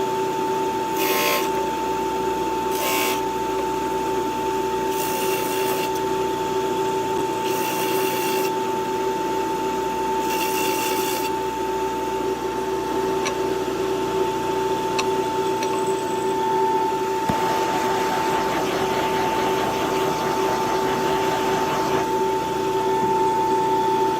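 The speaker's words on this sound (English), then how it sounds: "for cleaning up the edges, my benchtop sander, invaluable for large pieces" A benchtop sander smooths the edges of a wooden stacked sign, giving a steady motor hum with a constant tone and rough rubbing bursts that come and go as the wood is pressed against the abrasive.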